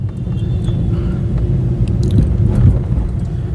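Car jolting along a rough, uneven flyover surface in Patna: constant low rumble from the road with occasional rattling thumps and clatter over the bumps, loud and near, without voices.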